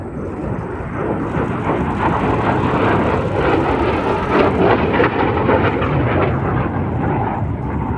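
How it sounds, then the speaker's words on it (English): A MiG-17F jet fighter roars loudly and steadily throughout its flying display at the AERO Gatineau-Ottawa Airshow, a broad, sustained rumble with no voices. "we have a different variant, MiG-17, which is the F variant."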